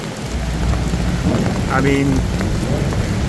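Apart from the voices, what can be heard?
heavy tropical rain in Bangkok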